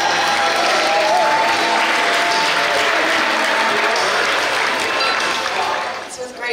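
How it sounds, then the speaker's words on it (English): A wedding reception crowd gives sustained, loud, dense applause during the toasts and special dances, the clapping tapering off near the end while voices mingle underneath. "Let's give a round of applause,"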